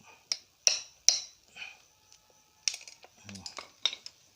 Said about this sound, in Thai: จะตอกเอา บุตนี่ออกก่อนครับ